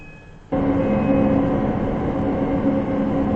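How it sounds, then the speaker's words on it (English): A train pulls into Platform 14 at Stepford Central station in a video game, giving a steady, loud rolling rumble with a faint high whine that continues without a break. "The train now approaching Platform 14 terminates here."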